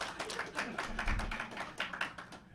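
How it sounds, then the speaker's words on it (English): A smattering of applause plays as a podcast sound effect, a short run of light, scattered claps at moderate level without voices. "A smattering of applause."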